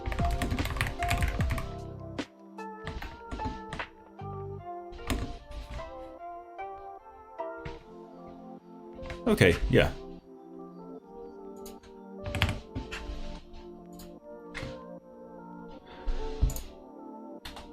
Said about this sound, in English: Are you able to hear the typing?